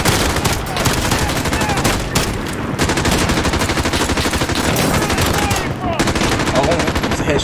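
Loud, rapid gunfire from a pistol in Call of Duty PC gameplay, fired in fast continuous bursts with a couple of brief pauses, close and dominant throughout.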